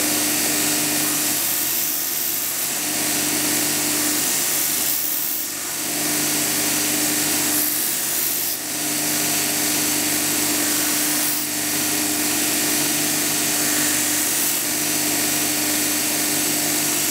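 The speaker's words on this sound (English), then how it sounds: "All I need to do is let it cool down and clean it on the linisher." Linisher belt sander cleaning up a metal ring in a workshop, a loud, steady abrasive whine and roar close by, with a few brief dips where the piece is eased off the belt.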